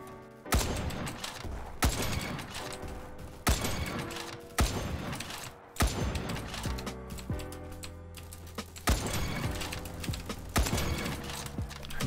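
Sharp, loud AWP sniper rifle shots in a video game crack at irregular intervals, each followed by bolt-cycling mechanical clatter and ringing decay.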